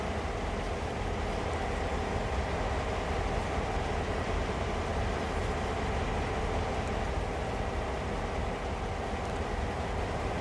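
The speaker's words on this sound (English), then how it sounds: "Look at our train going back." A train in the Train Sim World game rolls backwards, giving a steady, loud rumble with rhythmic wheel-on-rail clatter that carries evenly from start to finish, with no voices.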